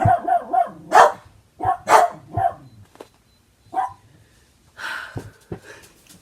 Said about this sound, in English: the dogs went crazy.